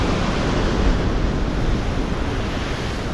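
Big surf waves crash and roar steadily along a Hawaiian reef shoreline, a loud, continuous wash of breaking water with wind buffeting the microphone throughout.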